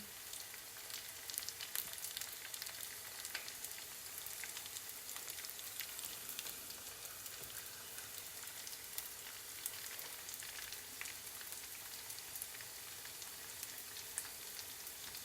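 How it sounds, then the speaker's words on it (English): Crab and cream cheese wontons deep-frying in hot oil, a soft, continuous bubbling crackle full of tiny pops, steady and faint throughout. "Just go ahead and lay them down in the oil. Let them puff up and do their thing."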